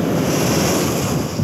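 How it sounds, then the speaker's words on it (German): A constant roar of strong wind and churning spray from a waterspout approaching a racing yacht at sea during the 2002 Volvo Ocean Race, buffeting the microphone loudly and without pause. "Also es ist Wind aus allen Richtungen, viel aufgewirbeltes Wasser."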